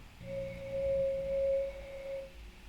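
A higher, pure whistling tone from blowing across the mouth of a glass bottle partly filled with water, holding steady for about two seconds, fairly quiet.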